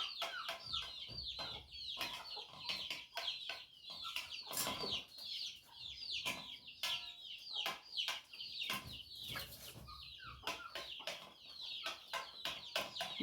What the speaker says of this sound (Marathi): बाहेर छोट्या कोंबड्या आहेत बरं का